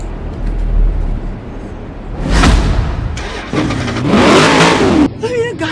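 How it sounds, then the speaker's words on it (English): Chevrolet Corvette ZR1 in the Forza video game, the engine firing up with a loud burst and then revving in rising and falling surges, close and powerful, while someone talks over it. "let's turn on the ignition"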